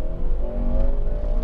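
Honda Civic Type R with a 2.0 i-VTEC engine revs hard, a brief, loud, steady engine drone with a rising tonal whine, heard from inside the car with no talk.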